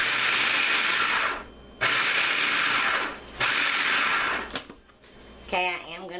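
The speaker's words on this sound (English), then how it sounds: "this food processor is the loudest food processor I have ever heard" A loud food processor chops large cucumbers for dill pickle relish in three long roaring bursts with short pauses between them, followed by a few shorter pulses, with a voice briefly heard near the end.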